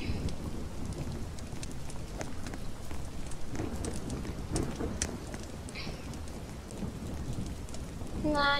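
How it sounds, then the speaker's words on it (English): Steady rain with rumbling thunder in the camping video game Camping 3, a continuous dense wash of falling rain under low thunder rolls, with a few faint tonal game sounds near the end and no talk. "Oh, it's rainy out there. It's just raining a little bit."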